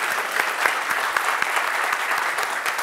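Close, steady clapping from a small group in a comedy sketch, a continuous patter of hand claps with a few sharper individual claps standing out, no talking over it.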